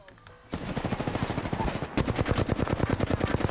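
Automatic gunfire in the video game Apex Legends: rapid, evenly spaced bursts of shots, close and punchy, pausing briefly before a second rattling volley.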